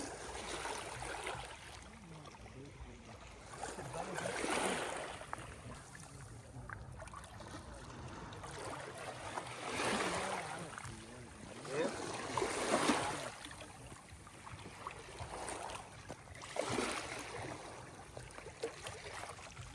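Sea waves washing onto the Dahab shore at night, a steady soft wash with swells rising every few seconds under wind, fairly quiet and close, with faint voices nearby.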